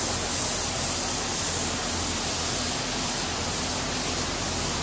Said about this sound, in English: We're sneaking in to watch Chad spray some clear coat